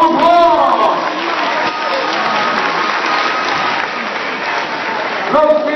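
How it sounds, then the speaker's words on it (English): An audience applauds at a Harlem Wizards exhibition basketball event, producing a loud, dense, sustained wash of clapping that holds steady for several seconds, with brief talking at the start and end. "Let's give James Stockham a round of applause!"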